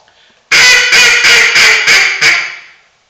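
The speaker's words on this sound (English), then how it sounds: "Here's through the insert." A duck call blown through its insert gives six loud, raspy quacks in an even, steady rhythm after a brief quiet start, close and clear with nothing else heard.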